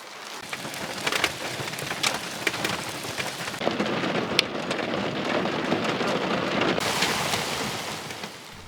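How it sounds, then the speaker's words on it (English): A storm brews over an off-grid homestead, with heavy rain pouring loudly and steadily while low thunder rumbles underneath and a brief lull falls partway through. "an actual storm was starting to brew in the distance"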